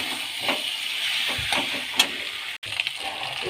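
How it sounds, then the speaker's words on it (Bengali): Water poured into a hot pan of fried mutton and potatoes, a broad hissing sizzle and gushing splash that runs steadily, briefly cuts out, then resumes. "জল দিয়ে দিচ্ছি।"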